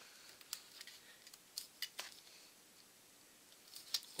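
Scissors cut fabric covering on a light aircraft's tail surfaces in a quiet workshop, producing faint, sparse snips and small metallic clicks at irregular intervals, with no talking.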